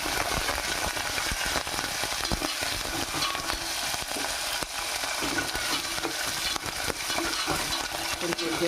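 Green chilies and curry leaves fry in a pan for Varalakshmi Vratam prasadam, giving a loud, continuous close sizzle with faint stirring scrapes throughout.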